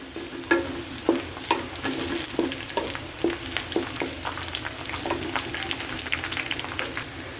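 Onions frying and browning in a pan, a steady close sizzle broken by repeated clicks and scrapes of stirring at an uneven rhythm.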